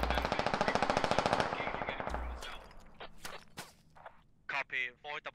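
Rapid automatic gunfire in a military squad-based shooter game, a dense burst of machine-gun fire for about two seconds followed by scattered single shots, clicks and a voice speaking briefly near the end.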